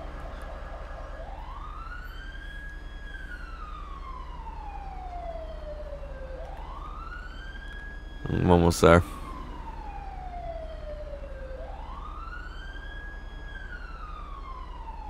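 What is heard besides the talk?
police car siren in a video game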